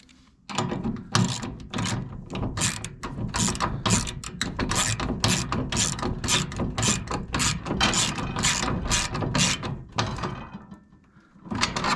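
Ratchet snugging down 13 mm nuts during assembly of a Harbor Freight US General tool cart: a long run of loud, close, rapid clicking strokes in bursts, briefly pausing near the end, with no talk.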